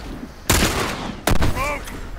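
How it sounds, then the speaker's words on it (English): Rifle gunshots in The Last of Us crack out in two loud, sharp blasts about a second apart, each with a short rumbling tail, and a brief voice follows the second. "Double shot by two rifles."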